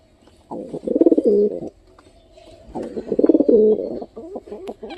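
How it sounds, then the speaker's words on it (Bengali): Two rounds of soft, throaty pigeon cooing close by, each a rolling burst separated by a short quiet pause. "দেখো ডাকাডাকি করতেছে কত সুন্দরভাবে"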